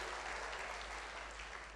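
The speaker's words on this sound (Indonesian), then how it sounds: "Berikan tepuk tangan bagi Tuhan." A church congregation claps during a Christmas sermon, a brief, uniform patter of hands heard at a modest distance, steady from start to finish with no speech on top.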